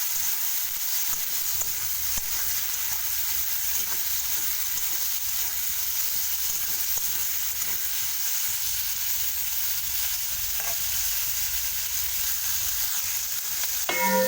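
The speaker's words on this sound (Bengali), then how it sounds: "শিমগুলো আমি হালকা করে ভাজা করবো।" Green beans frying lightly in a pan as part of a home-style Bengali dish with potatoes, a steady broadband sizzle running throughout with occasional soft stirring scrapes, close and continuous, no speech.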